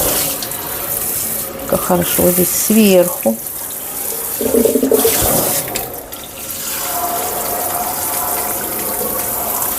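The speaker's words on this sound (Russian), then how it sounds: "Я только педаль внизу нажимаю, и вода пошла." A pedal-operated kitchen faucet runs water in a steady, splashing stream into a sink during cleaning, close and continuous, with a person talking briefly over it.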